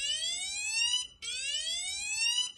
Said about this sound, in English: So if the barrier is there, it will activate the sirens until the barrier is moved.